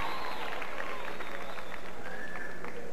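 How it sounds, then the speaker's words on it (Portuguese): A studio audience at a Brazilian variety show applauds as the host introduces a young woman. The clapping is dense and steady, mixed with crowd noise and some high whistling tones. "Vamos aplaudir."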